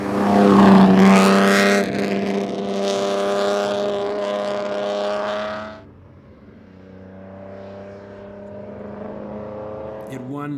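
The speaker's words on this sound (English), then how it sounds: "now with this new hot rod, state-of-the-art V12 3-liter engine," A Ferrari 625/250 TRC race car with a 3-liter V12 engine runs and revs loudly up close, a strong harmonic engine tone that drops to a lower idle-like drone partway through.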